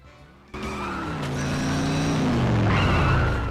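A car in the video game The Simpsons Road Rage revs up and skids, its engine note climbing before a loud, sustained tire squeal that bends and fades near the end.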